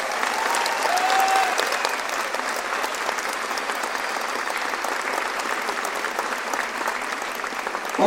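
Sustained crowd applause fills a ceremony hall for several seconds, dense and steady, peaking early and holding at an even level with a few faint whistles.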